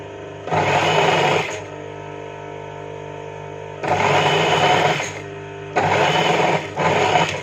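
A sewing machine stitching knit fabric while attaching a collar, running in three close, loud bursts of steady whirring separated by short pauses, with no talk.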